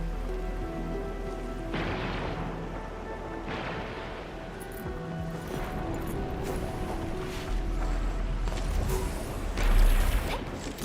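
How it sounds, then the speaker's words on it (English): Heavy rain in the video game Arknights: Endfield, a steady dense wash of falling water with occasional mechanical creaks and dull thuds rising near the end, no talking. "It's raining harder. I can't hear anything except for the rain."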